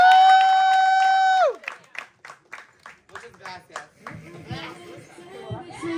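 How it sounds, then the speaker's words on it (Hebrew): Audience at a drag show claps and cheers for a drag performer after a musical sting cuts off, scattered hand claps and crowd chatter following. "וזאת כפיים לאופליה."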